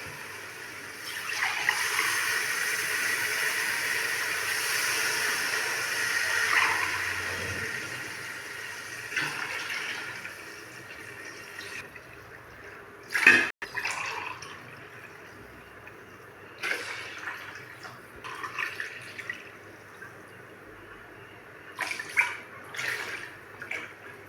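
Water splashes and trickles into a cooking pot for coconut milk rice, a pouring burst early on followed by scattered clinks, drips and handling noises in a quiet kitchen.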